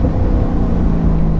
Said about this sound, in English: Wow, this car is fast.